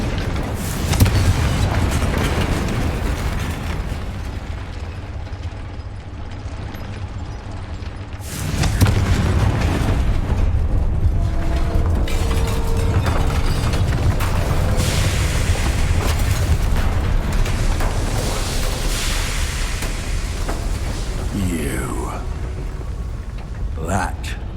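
Heavy booming blasts from the Confringo spell in Hogwarts Legacy roll over a dense game soundscape with rumbling effects and background music, and voices talk through it.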